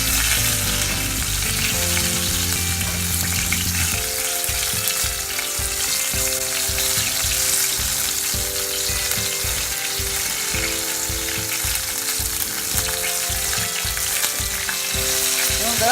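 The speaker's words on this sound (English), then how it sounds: "We're going to brown this on both sides" Gluten-free chicken parmesan browns in a frying pan with a loud, continuous sizzle and crackle, with occasional soft scraping and stirring knocks underneath throughout.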